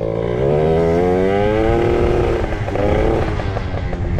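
A small scooter engine revs up loudly nearby, pitch climbing and holding, then dropping and rising again in uneven bursts.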